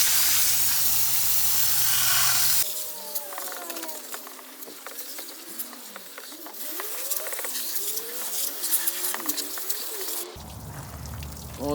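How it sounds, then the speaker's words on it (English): Water sprayed onto the engine parts of a 2007 Ford Escape XLT V6 during an oil change: a loud, steady hiss at the start and again near the end, with a quieter stretch of patter and scattered chirpy sounds between. "You gotta be really careful how you spray it"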